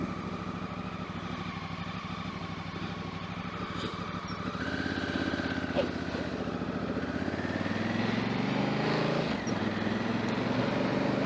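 A Honda Africa Twin motorcycle on Scorpion EX tires, heard from on board: its engine drones steadily up close, then climbs in pitch as the rider accelerates, with wind rumble underneath.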